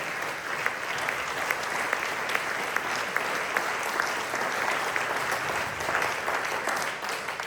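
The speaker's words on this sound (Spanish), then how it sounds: "Denle aplauso a Cristo fuerte." Church congregation applauding during a Spanish-language sermon, a steady dense wash of clapping that holds at full strength for the whole stretch without pause.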